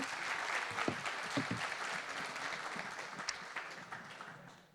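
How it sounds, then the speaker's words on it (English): A conference audience at a sustainable aviation event applauds warmly, a dense, steady round of clapping that carries on for several seconds before slowly thinning. "So let's give them a very warm round of applause, please, ladies and gentlemen."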